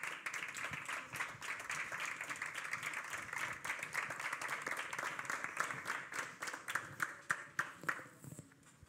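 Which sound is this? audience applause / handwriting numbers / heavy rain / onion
audience applause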